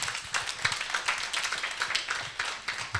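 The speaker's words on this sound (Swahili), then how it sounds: "Pigieni Yesu makofi." Church congregation at an overnight thanksgiving vigil clapping for Jesus, a fairly rhythmic patter of many hands with distinct sharp claps, moderately loud and continuous without speech over it.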